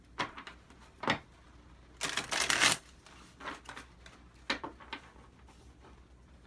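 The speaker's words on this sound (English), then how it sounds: "Let's go ahead and give some good shuffling." Tarot card shuffling up close: a few short riffling bursts and taps, with one longer, louder riffle in the middle, then quieter handling sounds.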